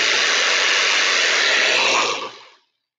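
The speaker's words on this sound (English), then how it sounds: "Got a little jigsaw." A small handheld jigsaw runs at full speed with a steady, loud buzzing whine, heard alone, then spins down and stops after about two and a half seconds.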